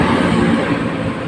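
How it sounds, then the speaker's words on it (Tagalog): A vehicle rushing past close by on a seaside highway at Dalipuga, Iligan City: a loud, brief broadband roar that fills the whole moment with no voices. "may dadaan na naman na sasakyan"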